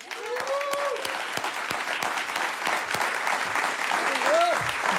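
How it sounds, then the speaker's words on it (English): Warm audience applause at a civic gathering in Los Angeles, steady clapping from a large room with a few whistles or cheers rising over it. "Please join me in giving a warm round of applause to Ms. Cynthia Mitchell-Hurd."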